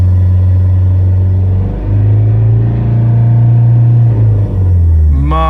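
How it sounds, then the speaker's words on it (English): Vauxhall Astra 1.7 TDCi diesel engine running steadily at idle, a loud, close, even rumble that holds smooth without surging, alone with no talk. "the engine is not surging anymore like before"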